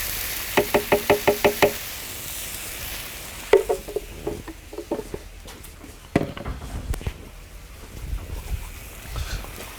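Green masala spice paste being stirred in a wok with vinegar and fenugreek: a quick run of sharp metallic knocks from the utensil, then scattered scraping clatters over a low sizzle.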